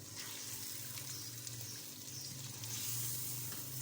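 About 1.5 kg of chicken sizzles and fries in a large pot for wedding-style korma, a steady hiss that swells slightly near the end, with no talking.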